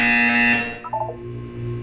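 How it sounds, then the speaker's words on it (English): Loud electronic buzzer sounds from the Portal 2 video game's wellness exercise, a harsh tone lasting about half a second before fading, followed by a few softer tonal blips and low hum. "You will hear a buzzer."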